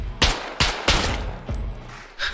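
AK15 rifle in the survival game SCUM, heard as four or five loud, close single shots at an uneven pace, each followed by a short decaying echo, with no talking.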